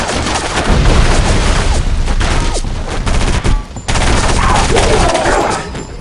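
Grenade explosions and gunfire in the video game Area 51, dense rapid bursts of shots with heavy booms layered throughout, loud and continuous with a brief dip midway.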